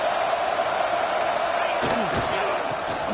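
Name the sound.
stadium crowd noise in the video game Madden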